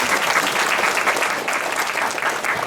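An audience at a North Texas Vietnamese American community event gives Mayor Tron a round of applause, dense and loud clapping throughout.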